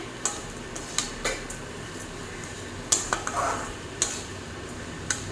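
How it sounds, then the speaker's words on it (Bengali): Vermicelli stirred with melting sugar in a pan over a low flame: scattered light clinks and scraping taps of a utensil against the pan, several sharp ticks spread across a few seconds at moderate volume. "আবার একবার নাড়িয়ে দেবো। চিনি অলরেডি গলতে শুরু করেছে।"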